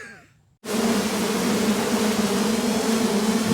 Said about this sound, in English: Thousands and thousands of bees.